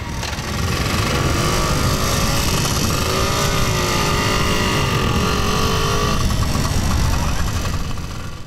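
Motorcycles roll past in a parade through a town during a local festival, loud engines revving and droning continuously, with a rising and falling pitch as machines pass close by.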